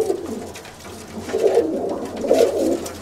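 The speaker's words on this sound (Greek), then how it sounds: "7-8 μηνών, περιστέρια." Young pigeons seven to eight months old coo in a loft in Kozani, Greece, giving low, throaty, repeated cooing phrases close by, with no talk.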